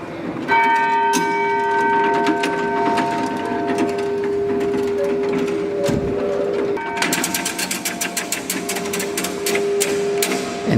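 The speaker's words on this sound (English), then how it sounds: "it's like you have this nice sound with the chimes, and then you have this cunk, cunk, cunk, cunk, cunk" Gravity-powered clock sounds off with ringing chimes that sustain over a steady mechanical drone, then a loud run of rapid, regular clunks from the pawl and ratchet takes over, close and prominent.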